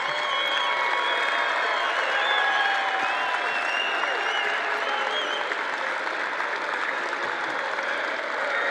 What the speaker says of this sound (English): Let's give him a real big round of applause